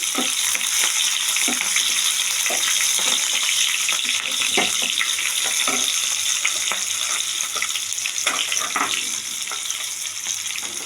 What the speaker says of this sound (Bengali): রসুনটা একটু ভাজা ভাজা হয়ে গেলে দিয়ে দিচ্ছি পেঁয়াজ, কিউব করে কাটা পেঁয়াজ দিয়ে দিচ্ছি